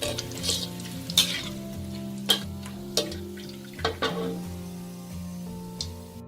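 Fermented pork spare ribs (naem) deep-frying in hot oil, a steady bubbling sizzle with several sharp clinks and knocks of a utensil in the pan, no talking.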